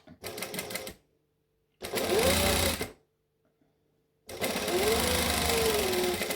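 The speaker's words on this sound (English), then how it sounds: "I'm just going to chain sew all of these together" A sewing machine stitches in three separate bursts of fast, even needle rattle, with short silent gaps between, as pieces are chain sewn together for a handmade sewing book.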